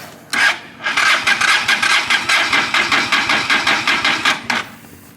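A cheap used motorcycle being cranked over in an attempt to start it, a rapid, rhythmic grinding churn that runs for several seconds without the engine catching, loud and close.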